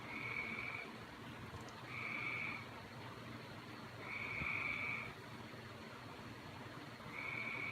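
Frogs croak in repeated bursts at a steady rhythm, each call a trilling chorus lasting about a second, over a continuous outdoor background hiss.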